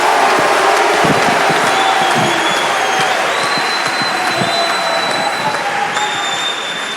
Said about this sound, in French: je vais vous demander d'applaudir avec tout l'amour qui est le vôtre, tous les orateurs et toutes les oratrices